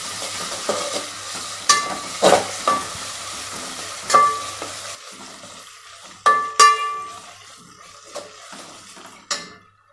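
Ginger-garlic paste is stirred into golden-brown fried onions in a pan for pulao, with a soft sizzle under repeated clinks and scrapes of a spoon against the pan.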